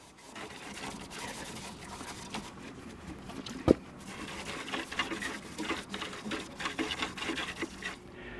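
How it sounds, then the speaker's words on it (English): Soft, steady rubbing and scrubbing with alcohol against a turned mulberry-wood bowl, a continuous close-up friction with one sharp knock partway through. "So now I'm just going to clean the dirt out with alcohol."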